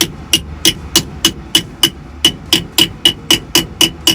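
A hammer strikes metal about thirteen times in a steady, even rhythm during wheel bearing repacking, each blow sharp, close and ringing.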